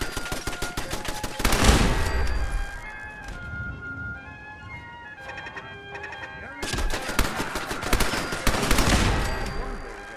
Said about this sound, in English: This gun is sweet.